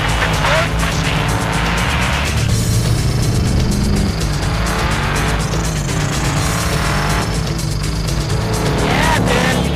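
A Superformance Daytona Coupe race car corners hard through a long 180-degree right-hand turn on a track, engine roaring loudly and tires squealing in repeated bursts, close and continuous throughout.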